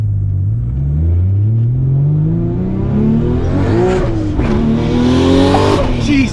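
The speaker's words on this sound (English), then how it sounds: "That's the first time I actually accelerated in this car" A car, an IS300, revs hard and accelerates with the engine note climbing steadily through the gears, loud and close, with a brief tire chirp near the end.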